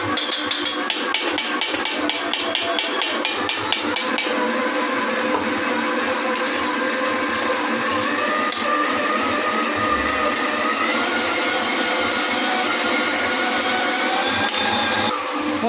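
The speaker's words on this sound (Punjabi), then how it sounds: "ਹੁਣ ਅਸੀਂ ਲਸਣ ਅਦਰਕ ਤੇ ਹਰੀ ਮਿਰਚ ਪੀਸ ਕੇ ਪਾ ਰਹੇ ਹਾਂ" An electric grinder grinds garlic, ginger and green chili for a round pumpkin (petha) dish, a loud, steady motor whine and rattle running unbroken for about fifteen seconds.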